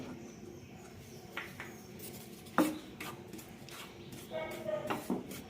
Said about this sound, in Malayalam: പാൻ ചൂടായിട്ടുണ്ട് ഇതിലേക്ക് ആദ്യം അരിപ്പൊടി ഇടാം